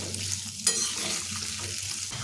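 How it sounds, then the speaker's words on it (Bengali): Chopped carrots fry in oil with salt, giving a soft, close sizzle with a brief stirring scrape of a utensil partway through. No one speaks. "এখন লবণ দিয়েও গাজরগুলো ভেজে নেব।"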